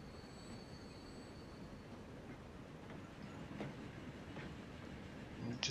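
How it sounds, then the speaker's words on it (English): Tram passing in the Transport Fever video game, a faint continuous rail rumble with soft rolling and clicking, rising slightly toward the end. "Just as the tram comes through"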